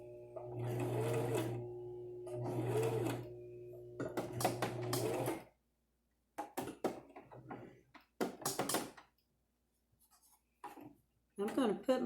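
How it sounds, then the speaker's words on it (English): A sewing machine stitches a miniature heart-shaped pillow in several short bursts of rapid whirring, near and clear, separated by pauses filled with small clicks and handling sounds. "I'm not going to sew all around it"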